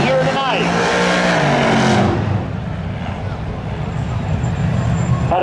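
Race cars roaring around Seekonk Speedway in a spectator drag race, loud engines droning close by with a rising whine that cuts off as they sweep past, a commentator talking over the noise.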